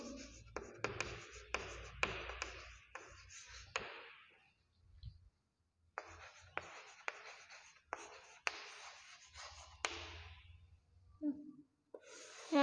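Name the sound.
writing the missing numbers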